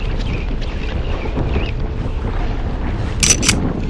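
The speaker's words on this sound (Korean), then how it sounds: "이제 바람과 너울은 잦아들기보단 더 거세지는 것 같습니다." Strong wind and rolling swell batter a fishing boat jigging for yellowtail off Hongdo in Korea's southern sea, a steady loud roar of wind buffeting and sea wash with brief higher gusts near the end, no voices.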